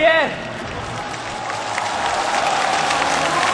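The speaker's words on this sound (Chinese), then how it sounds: "掌声在哪里？" An audience at the WCG China 2011 DotA grand final bursts into sustained applause and cheering. A brief voice comes first, then the crowd noise holds steady and full to the end.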